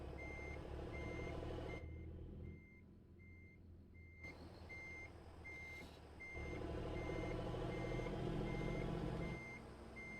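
Truck reversing alarm in American Truck Simulator beeping at an even, regular pace over a low engine rumble, a clear repeating tone throughout with a short quieter stretch where the engine noise drops.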